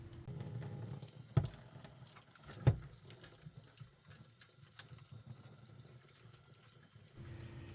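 Water splashing and rinsing over the wet side of a DiversiTech CP-22 condensate pump motor assembly, a steady close running stream with two brief louder splashes near the start.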